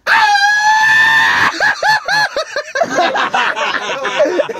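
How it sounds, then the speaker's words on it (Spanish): A long, sustained high shout held steady for about a second and a half, loud and close, followed by excited chattering and laughter from a group at a campsite. "Un grito mexicano, ¿no?"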